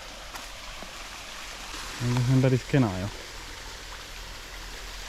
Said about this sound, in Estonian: Allikas vesi voolab.